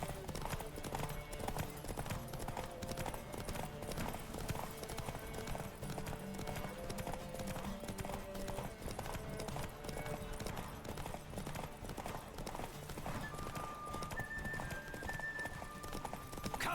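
Rapid, rhythmic hoofbeats of a galloping horse in The Witcher 3 drum on continuously at moderate volume, with a busy background and a brief high tone near the end.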